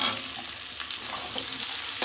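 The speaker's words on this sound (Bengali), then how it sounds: "আমি এরকম একটু নাড়াচাড়া করবো। কলাটায় তেল মাখলে কষ থাকে না, স্বাদ বাড়ে একটু ভাজা ভাজা করলে।" Plantain pieces frying in oil with onion in a pan, a continuous bright sizzle close by, broken by a few soft scrapes of stirring.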